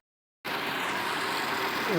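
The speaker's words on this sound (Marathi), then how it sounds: "3 HP पाणी बघा किती मोटर मारत आहे." An Oswal 3 HP solar water pump starts abruptly after a brief silence, then runs as a loud, steady, broadband rush of motor and gushing water up close.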